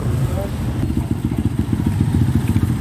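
A motorcycle engine idles and chugs with a steady, rapid low-pitched putter, close by, with some clatter over it, in downtown Poblacion, Toboso.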